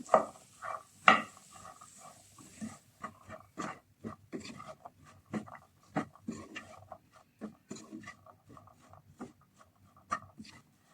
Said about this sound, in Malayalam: നല്ലോണം ഒന്ന് മിക്സ് ചെയ്ത് കൊടുക്കുക എല്ലാം കൂടി